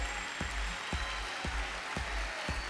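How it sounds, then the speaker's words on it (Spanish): Applause for the performer Jesús at a Venezuelan music talent show: steady, fairly faint clapping from an audience, with a few sharper claps standing out at regular intervals. "con el aplauso bien merecido a Jesús"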